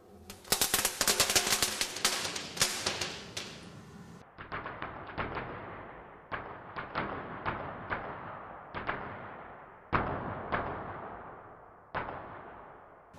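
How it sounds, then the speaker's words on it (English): Crackle star fireworks burst indoors into dense rapid crackling, first one loud sustained crackle and then a series of shorter, quieter crackling bursts at irregular intervals. "this is a crackle star"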